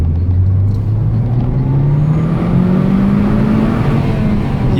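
A Peugeot 207 RC on a country road accelerates steadily from close range, its engine note rising continuously with a smooth building drone and no voices over it.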